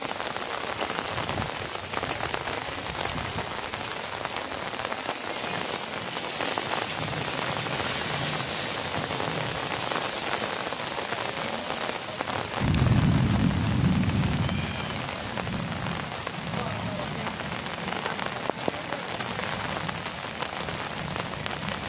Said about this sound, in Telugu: సో డార్లింగ్స్ ఏలూరులో అయితే ఫుల్ వర్షం. సో చూస్తారా మీరు కూడా వర్షం.